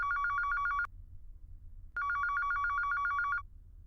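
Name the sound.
telephone ringing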